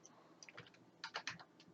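Fingers tap quickly on a computer keyboard, with soft close clicks in short irregular bursts and a few heavier keystrokes grouped together.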